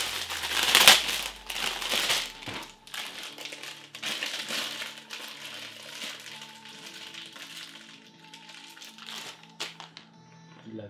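Plastic packaging around a small t-shirt crinkles and crackles as it is opened slowly during an unboxing, with a loud burst of rustling near the start and then quieter, intermittent crinkles close by.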